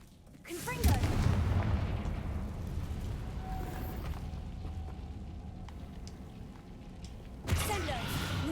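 Confringo blasting-spell explosions in Hogwarts Legacy erupt in a sudden booming burst followed by a long rumbling fire roar, with a second sharp blast near the end.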